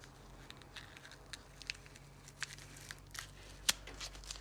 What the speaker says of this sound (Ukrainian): ми можемо обережно віддирати цей скотч